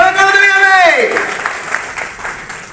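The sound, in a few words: audience applause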